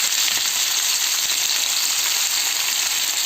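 Pork ribs fry with onion in a pan, a close, steady, dense sizzle running evenly throughout.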